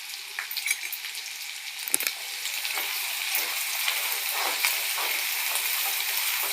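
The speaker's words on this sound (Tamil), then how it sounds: "பாருங்க, நல்லா வதங்குது." Garlic, ginger and spices sauté in a pan with a bright, continuous sizzle that swells slightly over time, broken by a few stirring scrapes near the start.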